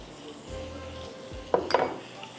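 Butter and ginger sizzle in a pan for a tarka for sarson ka saag, a soft frying hiss under metal clinks and a brief louder spatter as ingredients hit the hot fat.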